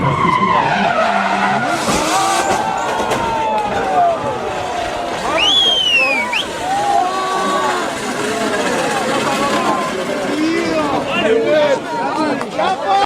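NASCAR stock cars skidding and crashing on a race track: tires squeal and scrub loudly over roaring engines, with rising and falling whines and a busy wash of voices throughout.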